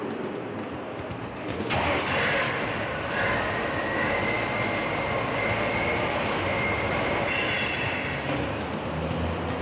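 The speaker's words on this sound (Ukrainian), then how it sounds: "Двигун перевірено працює." A large truck engine cranks and catches, then rumbles on at a steady, loud idle with a rising whine near the end.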